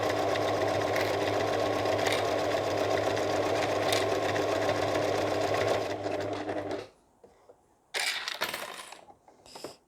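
A sewing machine stitches a cotton shower sponge in a fast steady whir for about seven seconds, then stops, followed by a few short bursts of stitching and small mechanical clicks.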